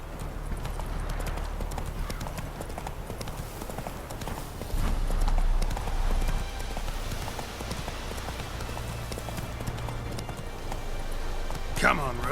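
Roach, a horse in The Witcher 3, gallops with a steady, fast clip-clop of hooves, close and continuous under a voice talking throughout.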